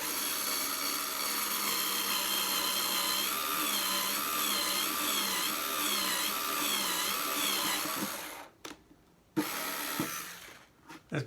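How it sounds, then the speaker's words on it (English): A small handheld drill with a drill-and-thread bit whirs steadily and close while boring a hole to mount a filament spool holder on a Polaroid Play Smart 3D printer. The pitch wavers, then the drilling stops briefly and resumes in short bursts. "I find it handy to use this little hand drill"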